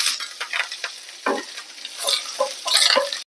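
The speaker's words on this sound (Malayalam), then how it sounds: "എണ്ണ ഇവിടെ ചൂടായതിൻ്റെ ഇതിലേക്ക് അര ടീസ്പൂൺ കടുകിട്ട് കൊടുക്കാൻ ഒരു വറ്റൽ മുളക് ചേർത്ത് കൊടുക്കാം കുറച്ച് കറിവേപ്പില" Mustard seeds, a dried red chilli and curry leaves sizzle in hot oil for a Kerala thoran, with a steady close crackle and scattered sharp pops from the seeds over a few seconds.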